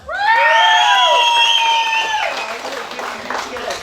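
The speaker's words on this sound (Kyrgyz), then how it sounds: "Келдиш аке менен Дүйшөн акеге кол чабуулар." Guests at a Kyrgyz child's celebration feast clap and cheer loudly together, with children shrieking over the crowd. The applause runs steadily throughout and fades slightly toward the end.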